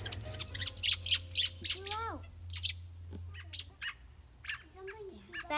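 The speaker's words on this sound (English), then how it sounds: "here comes Mama Bird" At a nest, a mother bird gives sharp, repeated chirps and squawks over the begging of baby birds, up close with some human voices mixed in.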